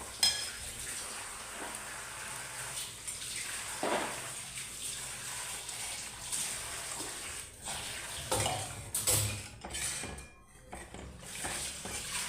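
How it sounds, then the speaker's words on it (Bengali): Water poured into fish curry masala frying in a pan, a steady broadband hiss and sizzle rushing continuously for several seconds with stirring clatter mixed in, close and fairly loud with no voices. "এখন জল দিয়ে দেবো।"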